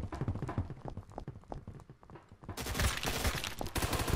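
Gunfire in Phantom Forces cracks out in dense, rapid bursts, sparse at first and then turning into a loud continuous fusillade in the second half.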